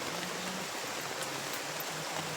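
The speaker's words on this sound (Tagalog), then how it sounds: "ulan na, umuulan na talaga" Steady rain hisses evenly throughout, a soft, continuous wash of falling water with no voices.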